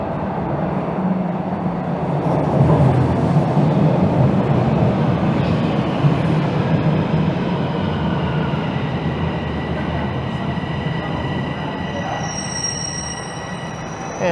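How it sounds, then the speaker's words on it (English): A southbound subway train rumbles into the Yorkdale station in Toronto, a steady loud roar of wheels on rails with faint high squeals toward the end. "It looks like a southbound train is just rolling in."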